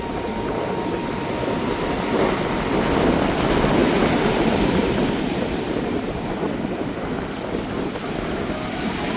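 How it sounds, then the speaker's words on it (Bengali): Rough sea waves at Puri beach, a steady broad roar of surf swelling and easing slightly, mixed with wind buffeting the microphone. "তো আজ কি উত্তাল দেখো সমুদ্র, দেখো।"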